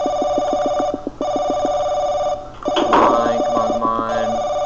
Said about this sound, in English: I'm sorry that you can hear this very loud yet stupid phone.